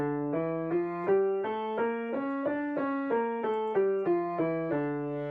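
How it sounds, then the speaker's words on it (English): A keyboard plays a harmonic minor scale as a steady sequence of two-note dyads, each note sounding in even rhythm with clear, sustained tones stepping up and back down. "So I will play the harmonic minor for you."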